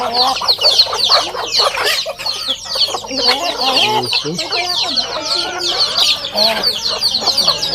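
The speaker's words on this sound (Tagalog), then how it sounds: "ang dami mga manok. Tandang, mga yan oh." Many chickens and roosters cluck and squawk together in a busy, overlapping chorus, close by, with occasional voices mixed in.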